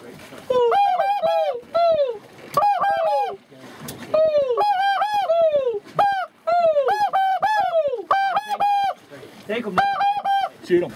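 Geese honk loudly and repeatedly during a goose hunt, overlapping calls coming in rapid bursts with short gaps, close and dominant throughout.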